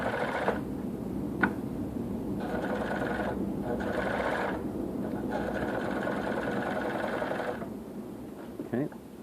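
A portable blindstitch sewing machine runs steadily through fabric, a continuous mechanical whir with brief pauses and restarts, close and moderately loud, with a small clack near the end.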